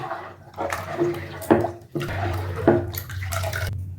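Water poured into a pot of soaked black kavuni rice for porridge, a steady splashing pour with a few louder sloshes and knocks, close and alone without talk.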